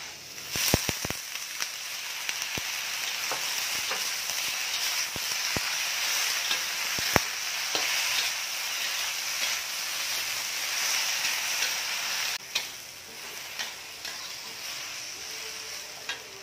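Vegetables stir-fried in a hot pan for a home-cooked vegetable and fish meal, with a steady loud sizzle throughout and occasional sharp clinks of a utensil against the pan, strongest early on.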